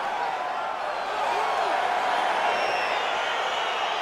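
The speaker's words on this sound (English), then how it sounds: "crowd getting excited as this fight gets underway" Crowd in the EA Sports UFC 4 fighting game cheers and roars as a bout gets underway, a steady, dense wash of arena noise holding loud and even throughout with no clear speech.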